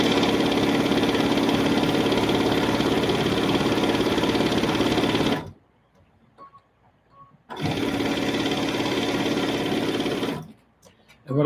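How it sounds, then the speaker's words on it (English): A sewing machine stitching a jelly roll quilt runs in a loud, steady mechanical whir up close, stops for about two seconds, runs again for a few seconds, then stops once more. "I'm just going to sew off all the way off the end here"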